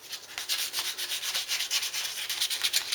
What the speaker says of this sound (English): Just going to scuff off this hideous satin finish.